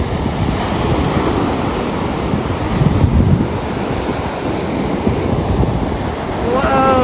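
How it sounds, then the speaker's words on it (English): Ocean waves breaking and washing onto Clearwater Beach at night, a continuous loud roar of surf with wind buffeting the microphone throughout. "The waves are a lot bigger today."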